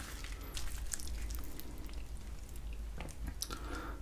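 Chewing on fried chicken and carbonara buldak mixed noodles, with close, wet mouth sounds and crunchy bites continuing steadily at low level, without talk.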